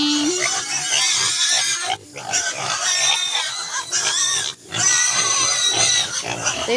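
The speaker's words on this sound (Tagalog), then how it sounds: "Ito yung mama pig nila." Mother pig grunting and oinking in a farm pen, a steady run of close, loud grunts and squeals with two brief pauses.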